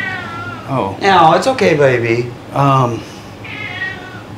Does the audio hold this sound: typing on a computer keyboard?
no